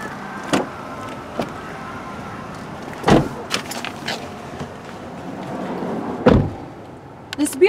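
A 2018 Chevrolet Equinox LT SUV being entered: a few sharp door thumps and handling clunks spaced through the clip over a quiet background, close to the microphone, no speech.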